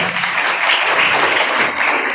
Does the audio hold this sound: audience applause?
yes